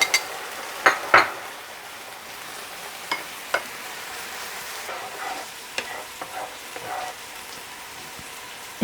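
Food fries in a pan over high heat with a steady soft sizzle. Sharp clinks and scrapes of a utensil stir and flip the food at intervals, with no voices.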